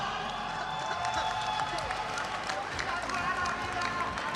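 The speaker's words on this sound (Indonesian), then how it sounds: "kita kasih tepuk tangan dulu dong buat Wirau." A tournament audience at a Honor of Kings esports grand final applauds, a dense, steady wash of clapping and crowd noise with cheering mixed in, heard under ongoing talk.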